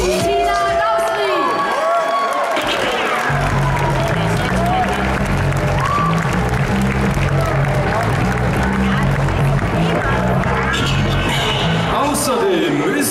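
Audience applause and cheering fill a hall at the Miss Germany 2017 final, a dense, loud and steady wash of clapping from a large crowd, with a presenter's voice over the start.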